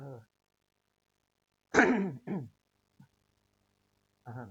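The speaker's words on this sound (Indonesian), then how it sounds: "aku batuk sebentar dulu" A short burst of coughing and throat clearing, a couple of close harsh bursts separated by quiet, with brief vocal sounds at the edges.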